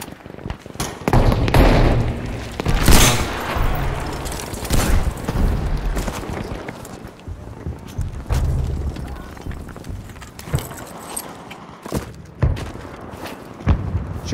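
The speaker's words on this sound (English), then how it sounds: "Throwing grenade!" Grenade and demolition charge explosions in the Battlefield 5 video game Breakthrough mode rattle off as loud booms and crackling blasts, several overlapping in a busy battle mix over about fourteen seconds.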